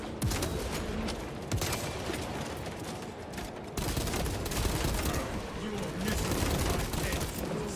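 Rapid gunfire volleys in Space Marine 2, dense sustained bursts of shots rattling through most of the stretch, loud and close with game sound mixed in.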